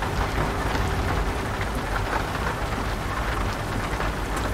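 Heavy rain drumming steadily in the Euro Truck Simulator 2 driving game, a dense continuous hiss with occasional low rumbles, moderately loud and heard alone with no voices.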